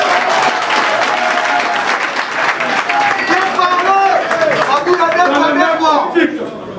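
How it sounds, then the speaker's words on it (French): Sustained applause from an audience filling a hall at a ceremony, loud and dense, with crowd chatter and voices rising through it in the second half before the clapping starts to thin out. "je demande à la salle d'applaudir pour le courage du docteur Etienne Ilongo"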